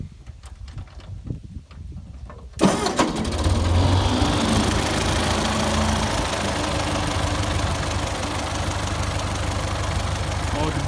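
A 1951 Ford 8N tractor engine, freshly overhauled after a bad knock, idles steadily and close by, starting abruptly after a few seconds of quiet background and holding a constant low rumble with faint knocking.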